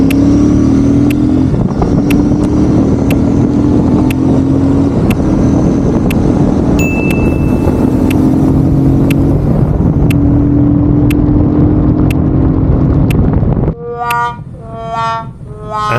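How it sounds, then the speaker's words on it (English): Royal Enfield Super Meteor 650 motorcycle accelerating hard in a 0 to 100 and 120 km/h speed test on a road, a loud, steady rising engine drone with wind rush for about fourteen seconds before cutting off abruptly. "Super Meteor 650 speed test. 0 to 100 and 0 to 120 kilometers per hour."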